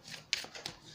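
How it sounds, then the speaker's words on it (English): Tarot cards being shuffled by hand, a faint, brief rustle with a couple of soft riffling flicks in under a second. "I could shuffle that until I get the Phoenix card"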